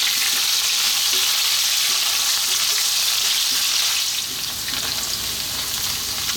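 Potatoes frying in hot oil for a fish curry, a loud, dense, steady crackling sizzle close up that eases slightly partway through, with no voices.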